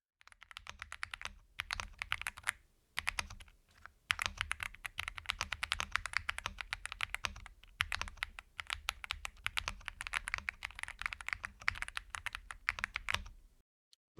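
Womier S-K71 mechanical keyboard being typed on, a dense run of crisp clacky keystrokes with a few short pauses and some louder bottom-out hits, close and alone for about fourteen seconds.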